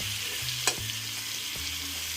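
Pieces of spiny gourd fry in a pan with salt and turmeric, giving a steady, quiet sizzle with one brief sharper crackle and no voices over it.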